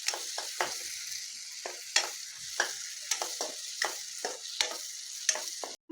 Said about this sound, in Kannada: ಸ್ವಲ್ಪ ಸಾಫ್ಟ್ ಆಗೋವರೆಗೂ ಫ್ರೈ ಮಾಡ್ಕೊಳ್ಳಿ